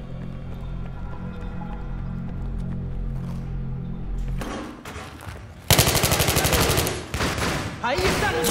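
Gunfire in the video game Battlefield 3 bursts out in rapid, dense automatic volleys after a stretch of engine-like droning, loud and crackling with short pauses between bursts, while players talk over it.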